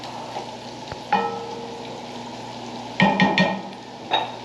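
Bacon cooking in a pan, with a low steady crackle of frying under a few louder clinks and scrapes as it is stirred and turned; no one speaks.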